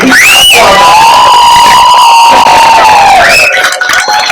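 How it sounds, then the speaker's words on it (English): A crowd erupts into loud cheering, whoops and applause, a sustained roar with a long high shout riding over it and near voices throughout. "but a Powder Springs round of applause"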